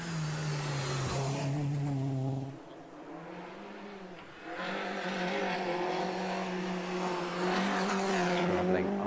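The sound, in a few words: Citroen C2 VTS racing at a hillclimb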